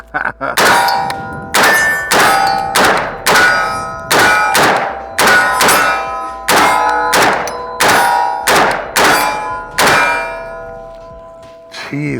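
Second magazine fired from an FN SCAR rifle: about fourteen sharp, loud metallic cracks at an even pace of roughly one per second, each ringing out before the next.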